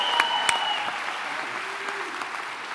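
Audience applause welcomes a student speaker to the podium at an executive MBA graduation ceremony in San Francisco, a steady continuous clapping that fills the hall throughout, with a few louder individual claps near the start.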